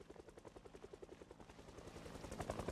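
Helicopter in the Project Zomboid video game (build 41.71), a steady rhythmic rotor chop with engine whine passing overhead, growing louder toward the end.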